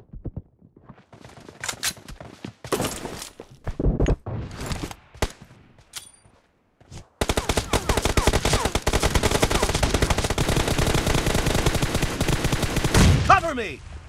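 PUBG gunfire: a few scattered sharp shots at first, then after a short gap a long dense burst of rapid automatic fire that stays loud and unbroken until near the end, with bits of voice mixed in early.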